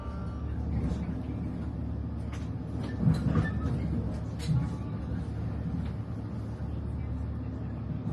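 Steady low rumble of the Date Satono sightseeing train running on tracks, heard from inside, with a few faint knocks and rattles over the hum.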